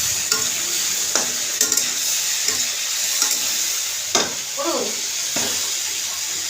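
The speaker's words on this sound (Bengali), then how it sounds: "আমরা একটু নাড়িয়ে নেব" Pasta is stirred in a pan over a steady frying sizzle, with a spoon scraping and knocking at irregular intervals; a light voice is briefly heard in the background.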